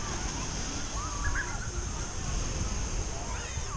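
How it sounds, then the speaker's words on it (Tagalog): Strong waves wash steadily onto a white-sand beach at Puerto Azul, a continuous broad roar of surf with faint voices drifting in over it. "malakas ang alon"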